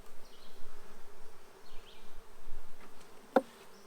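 Honey bees buzz steadily during a week-one hive inspection, a close, continuous hum with a sharp click near the end.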